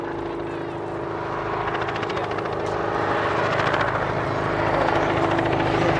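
A Bristol 171 Sycamore helicopter at the Cosford airshow, its rotor and engine producing a steady, loud drone with a rhythmic blade chop that builds slightly over several seconds, heard from a moderate distance.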